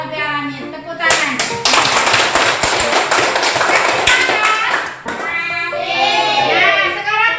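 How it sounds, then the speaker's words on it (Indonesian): Indonesian classroom students clap together in a loud, sustained burst of dense hand claps from about one to five seconds, then a teacher's voice speaks over fading claps. "Tepuk tangan."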